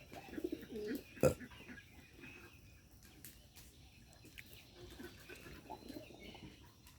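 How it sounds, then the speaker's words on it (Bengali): Faint, low coos of a Bagha pigeon repeat in a quiet space, with a sharp knock early on. "অনেক সুন্দর ডাকে বাঘা কবুতরটা"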